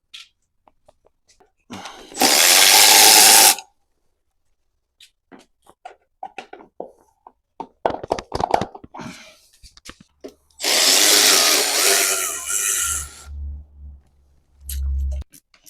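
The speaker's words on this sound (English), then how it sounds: "So let's go ahead and take the carburetor off." Hand tools working on the carburetor of a Kawasaki KFX50 quad, with two loud bursts of a power driver or drill spinning, scattered clicks and metallic taps between them, and a low engine-like rumble near the end.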